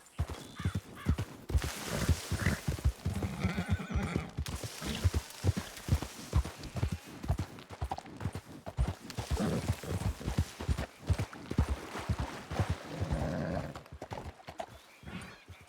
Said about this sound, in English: There's a horse rider right there.